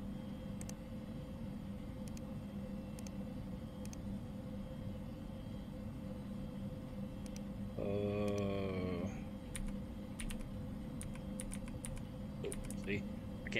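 Keyboard typing in the horror game Fears to Fathom: Woodbury Getaway, with quiet scattered key clicks over a low hum, broken by a short creaking noise midway.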